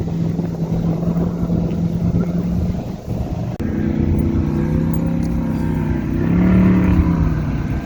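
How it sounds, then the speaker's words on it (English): Motorboat engines drone steadily nearby on Lake Isabella, one hum fading as another engine swells and passes, with wind rumble underneath. "I love just watching all these boats go by"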